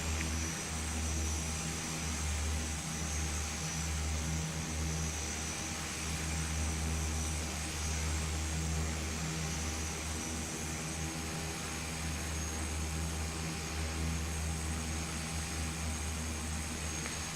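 Twin turboprop engines of an Embraer EMB 120 Brasilia idling after start-up in the Prepar3D flight simulator, a steady loud droning hum with strong low tones that holds unchanged throughout, with no talking.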